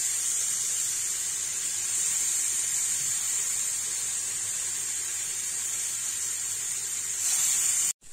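Paneer tikka pieces searing in a hot, oil-free frying pan, giving a steady, close sizzling hiss that holds evenly throughout, rises slightly near the end and then cuts off abruptly, with no talking.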